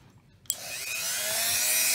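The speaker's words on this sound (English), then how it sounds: "I've attached a sanding head to the tip of my Dremel" A Dremel rotary tool fitted with a sanding head starts with a sharp click and spins up into a steady, rising high-pitched whine that holds close and loud.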